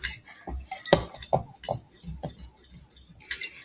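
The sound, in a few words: mixing keto bagel dough in a bowl with a Dutch whisk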